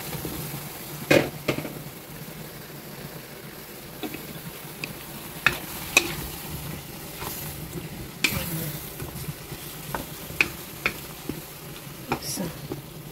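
White radish goes into a pot of boiling beef broth: a continuous bubbling, hissing simmer with scattered clicks and knocks from the pot and utensils, close and moderately loud.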